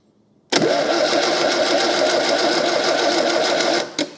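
A Fiat 600 engine cranks over steadily on the starter while pumping oil, a fast, even mechanical chatter that starts abruptly, runs loud and unbroken for several seconds, then cuts off with a brief final burst.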